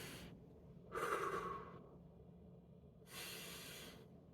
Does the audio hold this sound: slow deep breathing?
yes